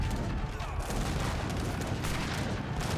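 Heavy cannons firing in an Age of Empires 3 battle against elephants, a dense, continuous roar of overlapping booms and gunfire with no clear gaps, loud throughout.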